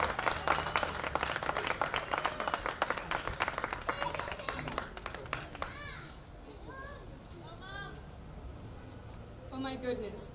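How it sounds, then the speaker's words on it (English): A crowd at a municipal building event in Paterson applauds a woman called forward, with dense clapping for the first five seconds that then fades under scattered voices and talk. "Big round of applause for Marsha."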